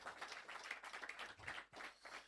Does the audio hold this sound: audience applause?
yes